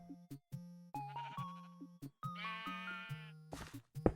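Sheep in the Minecraft video game bleat repeatedly, a string of distinct wavering bleats with short gaps in between, close and clear, without talk.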